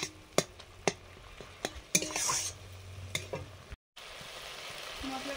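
Kashmiri chili powder and turmeric frying in hot oil in a pan, a spattering sizzle punctuated by sharp clinks and scrapes of a stirring utensil, with a brief dropout near the end and no talk.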